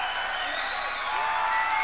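Audience applause at a live concert from 2006, a steady wash of clapping from a large crowd that holds at an even level throughout, with no talk over it.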